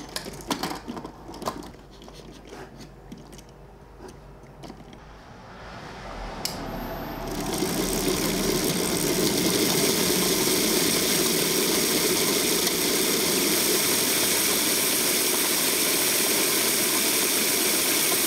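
A DIY acrylic chain running on sprockets, driven by a motor, starts with rapid clicking that builds into a loud, steady whirring drone with constant rattle and hiss.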